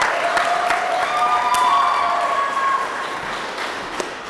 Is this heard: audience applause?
yes